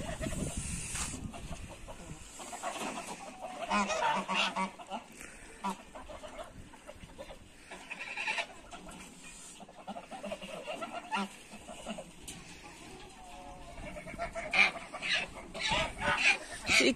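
Farm chickens and geese eating scattered feed, with busy clucking, pecking and occasional honks and squawks from the flock nearby, moderately quiet and irregular.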